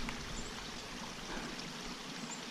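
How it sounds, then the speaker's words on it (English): Steady, close rushing of water pouring and trickling from a pipe in a forest, a continuous broadband wash with no pauses and no voices. "I could still hear water running, but it's obviously frozen pouring out of there."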